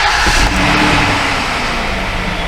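A broken-down car with dashboard faults and a warning light on runs after being started: a loud, close, steady engine drone with a slight rough pulse, no voices.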